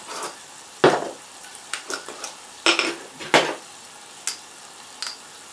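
Cumin seeds, cardamom and ground spices such as coriander and garam masala frying in a pan under a soft sizzle, broken by sharp irregular clinks and scrapes of a utensil against the pan.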